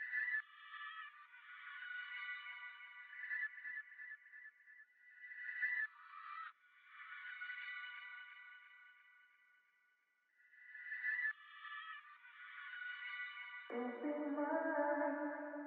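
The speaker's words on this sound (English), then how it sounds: "So I got a version where I sped it up and reversed it" A sped-up, reversed vocal sample from a soulful R&B beat, sustained warbling tones rising and swelling in two long phrases, with a lower layered tone entering near the end, playing alone and fairly quiet.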